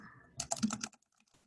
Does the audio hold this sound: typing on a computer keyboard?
yes